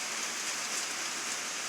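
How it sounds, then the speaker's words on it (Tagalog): Steady, dense rain hisses evenly throughout, a broad continuous wash of falling water with no voices or other sounds. "Lakas ng ulan."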